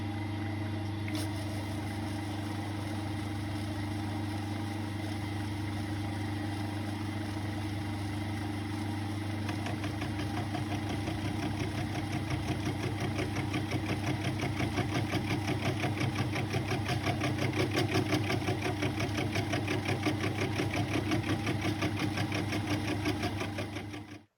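South Bend lathe set up for milling a Triumph drag bike crank starter hub, a steady low mechanical drone with a fine rapid rhythmic chatter building through the cut, continuous and even, with no talk.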